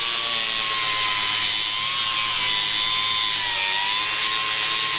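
A power tool cuts a notch into a metal strut tower on an off-road bread van build, giving a steady, loud, continuous grinding whine for the whole stretch that cuts off abruptly at the end.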